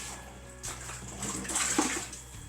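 Water pours and splashes steadily during kitchen cleaning work, a continuous running wash that swells slightly toward the end, fairly close with no talking.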